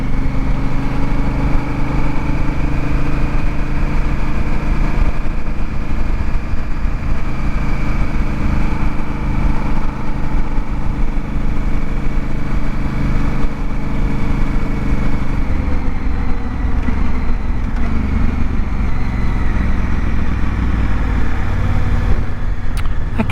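A Honda Africa Twin motorcycle cruises in fifth gear at about 50 miles an hour on blacktop, its engine a steady, even drone with wind rush, unchanging throughout.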